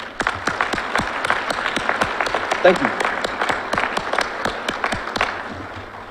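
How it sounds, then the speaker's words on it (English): Audience applause fills a fire recruit graduation ceremony, with a steady run of sharp, close claps that carry through the whole stretch while a voice briefly speaks over it. "And family and friends, please join me in giving them a round of applause."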